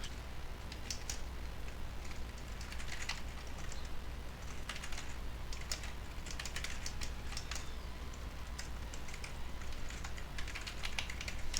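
Steady run of computer keyboard typing while code is entered, continuous close clicking keystrokes over a faint background hum, no talking.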